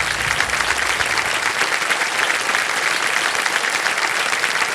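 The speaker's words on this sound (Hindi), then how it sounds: "ताली बज जाए इनके लिए।" Studio audience on a televised quiz show breaks into sustained, even applause, dense clapping filling the room without pause.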